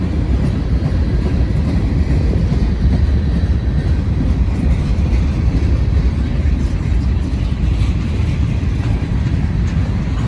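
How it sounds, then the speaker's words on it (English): A mixed freight train with five locomotives, one a distributed power unit shoving at the rear, rolls past close and loud at Heaton Street near a bridge. A dense, steady rumble of boxcars runs the whole time. "This is a good train here."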